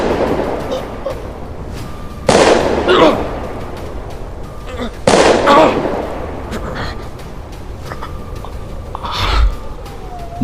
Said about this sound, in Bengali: কানে এলো বিপুল ফায়ার করার একটা বিকট শব্দ।